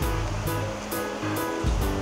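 An artificial waterfall makes a continuous, loud, close rush of falling and splashing water with no voices.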